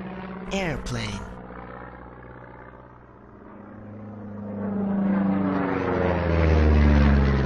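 An airplane in flight produces a steady droning roar that swells louder toward the end, after a brief sweeping tone at the start.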